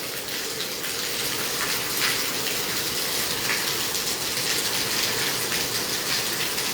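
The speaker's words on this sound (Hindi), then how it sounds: "इतनी तेज़ बारिश हो रहा है" Heavy rain in Hisar, India: steady, dense rushing of water fills the whole clip, a loud continuous downpour with no breaks and no voices.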